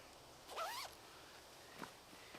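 A zipper on a quiet fleece hunting vest is pulled up in one quick rasping stroke, followed by a short faint second zip sound in an otherwise quiet setting.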